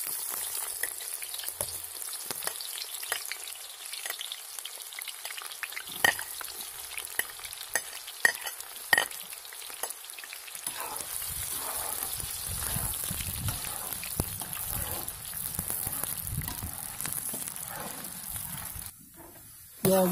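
Ingredients for Andijan-style plov fry in hot oil in a pot, making a steady, dense sizzle that rises and thickens as food is stirred, with occasional pops and scraping clicks and no talking.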